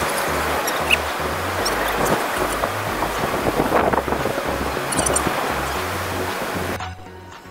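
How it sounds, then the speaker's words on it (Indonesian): Strong wind sweeps across Pantai Tapang beach in Bachok, roaring and buffeting the microphone continuously with faint surf beneath, then cutting off abruptly at the end. "Sini angin memang kuat. Kita boleh dengar bunyi angin."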